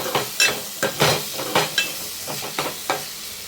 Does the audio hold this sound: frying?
yes